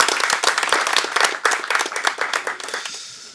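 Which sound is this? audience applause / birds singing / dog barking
audience applause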